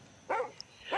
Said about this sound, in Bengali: বাইরে রাস্তার কুকুরগুলি অনবরত ঘেউ ঘেউ করে যাচ্ছে।